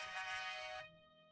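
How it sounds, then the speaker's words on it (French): A mobile phone ringtone for an incoming call, a bright electronic melody ringing close and clear before cutting off abruptly, leaving a faint lingering tone. "C'est mon appel."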